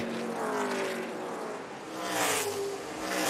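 NASCAR Xfinity Series race cars roar around Iowa Speedway's short track on the final lap, engines whining and swelling as the pack passes at a distance, with crowd and track noise behind.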